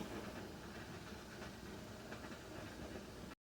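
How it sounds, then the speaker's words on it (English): Steam escaping from under the rim of a jelly canner in a home kitchen, a steady, faint, even hiss that holds constant and then cuts off abruptly. "we have steam coming out the side under the rim"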